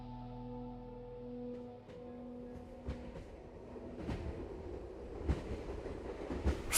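A train rolls past with a low rumble and tonal hum, giving way to rhythmic clickety-clack and sharp rail clanks that grow louder toward the end.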